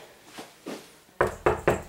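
Knuckles knock on solid panel interior doors in a house: a few soft raps, then three louder, close, solid knocks in quick succession, with no talk.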